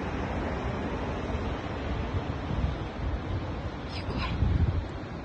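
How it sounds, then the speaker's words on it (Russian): Ocean waves and surf wash steadily in a continuous broadband roar, with wind buffeting the microphone throughout; no talk. "Что-то океан шумит."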